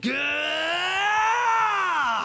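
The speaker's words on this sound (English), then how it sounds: "That was a very loud scream." A loud, drawn-out scream from a character in the video game Monster Prom, a single sustained wailing cry rising then falling, close and alone over faint ticking game music.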